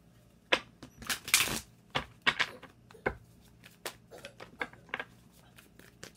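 Tarot cards are shuffled by hand up close, giving a series of quick, crisp riffling snaps and taps in irregular bursts, with one longer fluttering riffle early on and no talking.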